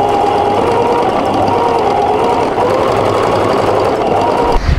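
A sewing machine runs steadily, stitching along the edge of an ecoprint tote bag, a close, loud, continuous mechanical whir that stops abruptly near the end, with no talk.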